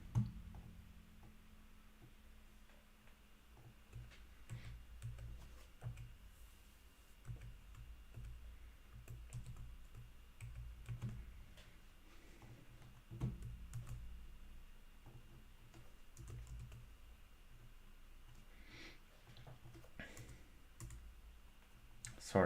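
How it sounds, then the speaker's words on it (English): Computer keyboard keys click in irregular bursts throughout, quiet and close, with a person talking intermittently over the typing. "now if I'm typing Control-Shift-N"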